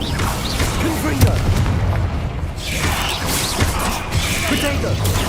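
The Confringo fire spell is cast in Hogwarts Legacy, producing loud repeated booms and blasts over a continuous roaring, crackling din of game effects.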